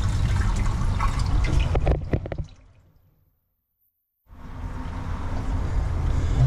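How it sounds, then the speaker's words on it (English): Water rushes and splashes steadily into a center console boat's live well, fades away into a short silence, then the rushing flow returns at full strength. "Looks like the live well is filling up."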